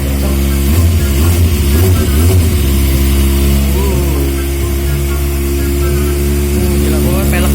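A Honda CBR1000RR superbike is revved hard up close, its engine roaring loud and rising and falling through several throttle blips while people talk over it.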